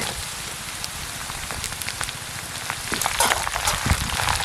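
Chopped ginger being sautéed in a pan for lemon pickle, a steady close sizzle and crackle with scattered spatters that grow slightly busier toward the end.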